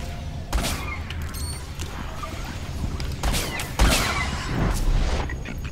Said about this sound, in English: Wasting those snipe shots.